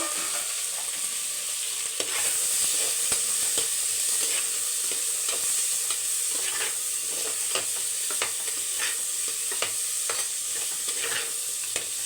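Onions and tomatoes sauté in a pan for a crab masala, a steady close sizzle with frequent scraping stirs throughout, no voices.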